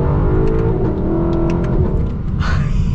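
A Lexus LC 500 with its V8 engine revs while driving, a loud throaty drone that rises and holds with a harmonic growl, close and dominant, with a brief burst of higher roar near the end.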